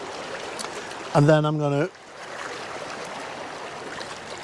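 Water flows steadily in a sunset landscape, a soft continuous rush beneath the whole scene, while someone speaks briefly near the start.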